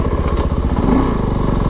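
Kove 450 Rally dual-sport motorcycle on singletrack, its single-cylinder engine thumping in a rapid, steady pulse, loud and close, with no talk.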